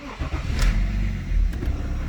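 The M57 diesel in a 2010 BMW X3 cranks and catches, then settles into a low, rumbling idle, heard close up with a couple of sharp clicks and no talking.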